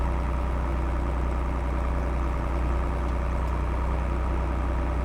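A tractor engine idles steadily in the Farming Simulator game, a constant low rumble with a mid-range drone that holds unchanged and alone throughout.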